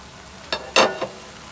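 Tomato chutney cooking in a pan over medium heat gives three short bursts of sizzling and stirring, the middle one loudest, set apart by quiet gaps.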